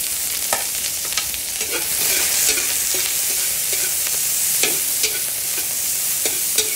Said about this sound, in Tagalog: lagay tayo ng konting mantika. Yan po, lagay po natin yung sibuyas.